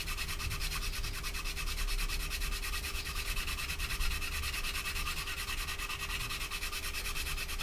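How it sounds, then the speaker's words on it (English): A flat file and sandpaper rub back and forth across the join on a Hasegawa 1/48 Harrier GR7 plastic model kit, making a close, steady rasping scrape in quick repeated strokes. "keeping the file flat onto it, finger on the top of the actual area, little movements, and we're going to go 90 degrees to the join"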